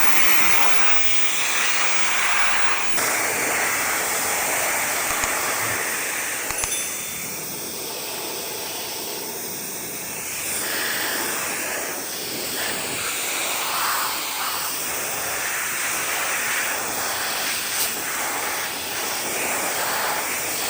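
A Vogma V40 portable motorcycle dryer blows a strong, continuous rush of air that moves wet leaves outdoors, a steady close hiss whose tone shifts slightly at a couple of points, with no one speaking.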